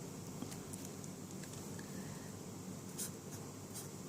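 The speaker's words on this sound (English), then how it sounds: "So we write our conclusion here" Pen or marker writing out a maths conclusion on a board or paper during a first derivative test lesson, a soft continuous scratching with brief strokes over a steady background hiss, no talk.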